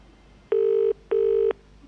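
A call to a mobile phone rings out as a clear double-burst ring tone, two even electronic trills in quick succession, loud and alone with no talking.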